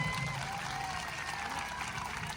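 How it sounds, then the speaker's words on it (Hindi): A large crowd applauds steadily at a packed Chhattisgarhi turma event, a dense, even wash of clapping that stays fairly distant and quiet for its whole length. "तो एक बार छत्तीसगढ़ में ताली के लिए जोरदार ताली जरूर बजाओ।"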